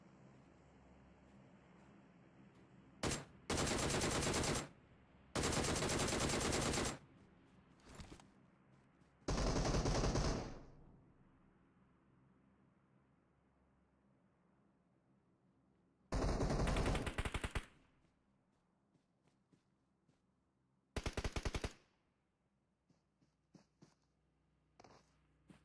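Video game gunfire comes in several separate loud bursts of automatic fire, each lasting a second or two, with quiet gaps and a faint low background hum between them.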